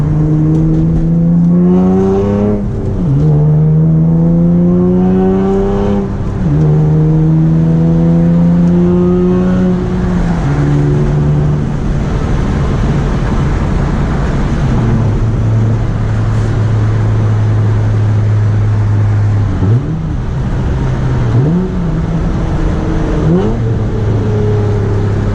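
A catless 2008 Honda Accord V6 coupe exhaust while driving, loud and close, with a raspy drone that climbs and falls through gear changes and revs, steady and continuous throughout.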